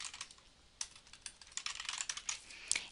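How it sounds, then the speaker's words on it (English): Rapid keystrokes on a computer keyboard as a single word is typed, a close, crisp burst of clicks that quickens toward the end, with no voices. "So again, we're going to type in a word,"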